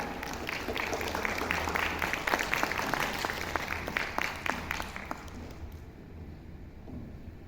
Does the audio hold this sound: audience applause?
yes